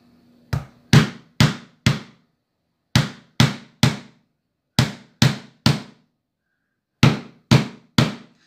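Hammer taps in quick clusters of three or four, sharp and fairly close, with short pauses between groups; no talking.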